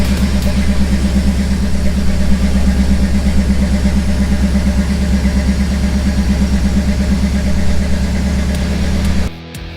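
A 1972 GMC Jimmy engine idles loud and close in a steady, even rumble for nearly ten seconds before cutting off abruptly at the end.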